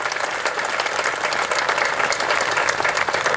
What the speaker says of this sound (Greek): Ένα χειροκρότημα για τον Αρχιεπίσκοπο τώρα.